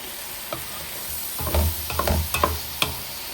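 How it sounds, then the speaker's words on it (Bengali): Curry spice paste being stir-fried in a pan for a traditional eggplant and fish curry: a soft sizzle underneath with a few scraping stirs and clinks of a spoon against the pan, close and fairly quiet, no talking. "এখন মশলাটাকে ভালো মতো কষাবো"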